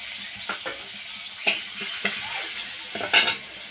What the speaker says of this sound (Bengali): কাঁচা লঙ্কা আর জিরে এইভাবে কয়েক সেকেন্ড নেড়ে নিচ্ছি